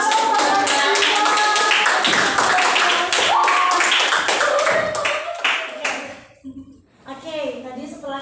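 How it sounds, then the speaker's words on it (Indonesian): Brisk, fairly close hand clapping from an Indonesian classroom group over lively children's and adults' voices; the clapping fades near the end, leaving the chatter. "Masya Allah, tepuk tangan."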